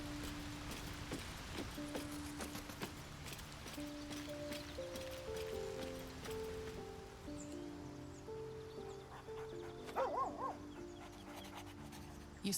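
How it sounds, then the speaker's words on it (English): A puppy in a fantasy video game gives a few soft, faint barks and yelps over quiet game music, with a low rain-like ambience underneath. "Oh, here's the puppy."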